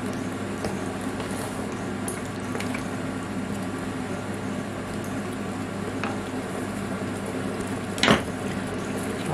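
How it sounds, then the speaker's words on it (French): Rabbit pieces simmering in a pan with tomato and vegetables, giving a steady, soft sizzle and bubbling with one brief louder clink near the end. "Et là, ça va commencer à mijoter."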